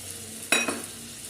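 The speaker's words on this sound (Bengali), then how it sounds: "এখন আমি এতে জল দিয়ে খানিকক্ষণ" Water is poured into a pan of browned potatoes for a potato, cauliflower and pea curry, giving one brief, close splash and sizzle that quickly fades back to quiet.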